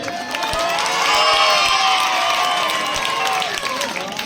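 A crowd at a political rally applauds in welcome, dense clapping mixed with cheering and shouts filling the space steadily for several seconds, loud and sustained throughout.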